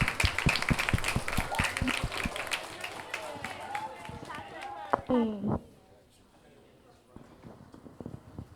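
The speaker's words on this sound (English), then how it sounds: "Round of applause for all of our players." Scattered clapping from a small audience at a 2nd and 3rd grade school spelling bee, close and uneven, with voices under it before fading to near quiet and a few last claps.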